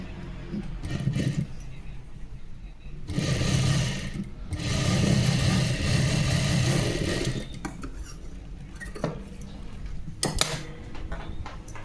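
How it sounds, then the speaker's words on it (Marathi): A sewing machine stitches the hook strip on a princess-cut blouse in two whirring runs separated by pauses, with clicks and handling noises throughout. "असं त्याला पकडून ठेवायचं आहे आणि शिलाई करून द्यायचं आहे"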